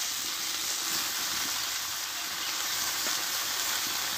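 Chopped spinach sizzling and frying in a hot pan, a steady dense crackle and hiss throughout, close and fairly loud with faint occasional stirring scrapes.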